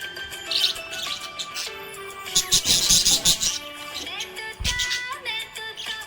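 A happy pet budgie chirps and warbles in a busy run of bright, close tweets and trills, mixed with background music.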